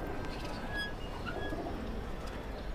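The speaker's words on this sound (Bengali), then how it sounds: "পছন্দের কবুতর মধ্যে একটা মাদি কবুতর আছে" Pigeons coo softly and steadily in a loft, low murmuring calls repeating over a constant background hum with a few faint chirps; no speech.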